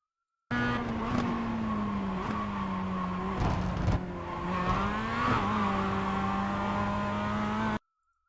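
A Mazda MX-5 race car in a racing video game at Charlotte Roval runs at full throttle, its engine droning steadily loud with slight pitch dips and rises as it lands and accelerates, tires briefly scrubbing, no voices.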